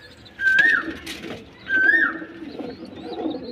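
A pigeon gives two clear, close coos about a second apart, each a rising, warbling call over quiet background, followed by a softer murmur.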